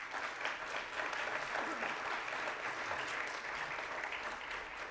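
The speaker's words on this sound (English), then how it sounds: "I'd like us to start by giving a very big hand clap to the organizers" Conference attendees at a closing ceremony give a steady, full hand clap for the organizers, a dense wash of many hands sustained throughout at moderate distance.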